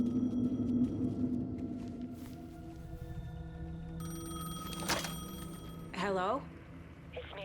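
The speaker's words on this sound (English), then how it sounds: "The payphone was ringing." A payphone rings in the video game Alan Wake II, with a warbling electronic ring under a low ambient drone and a sweeping tonal effect near the end.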